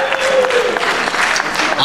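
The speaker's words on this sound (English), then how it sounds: "How many people have dieted for a show before by round of applause?" A crowd at a bodybuilding show applauds and cheers, with a brief whistle-like tone early on. The clapping is loud and close and lasts under two seconds.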